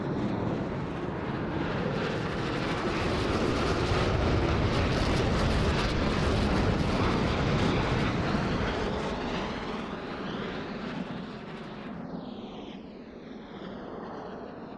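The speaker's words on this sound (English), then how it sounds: "virtual Roblox Blue Angels 5 and 6 are approaching the flight line in a line abreast formation at 400 miles per hour" Two virtual Blue Angels jets, numbers 5 and 6, race past in line abreast formation at 400 mph in a Roblox air show, making a loud, steady broadband roar that swells and then fades with a falling whine as they pass.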